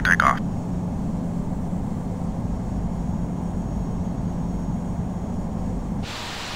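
An airliner taking off in the Infinite Flight simulator, a Lufthansa A-series jet departing Toronto runway 24 right, gives a steady hissing engine roar with a low hum beneath it. A brief noise burst comes at the start, and the sound changes and drops slightly near the end.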